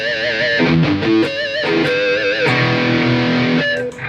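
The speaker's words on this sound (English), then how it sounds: "brown sound," Electric guitar played through a Boss OD-200 pedal set to its brown sound distortion mode: a loud, thick distorted riff of several chord changes and short picked accents.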